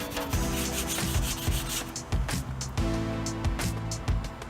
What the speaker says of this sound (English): to get enough wax on the sponge to do this rough surface